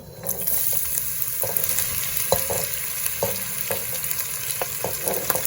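Onions sizzle steadily in hot oil for a rooster biryani, with a continuous hiss broken by sharp scraping clicks of a spoon stirring the pan at irregular intervals, close and fairly loud, with no talking.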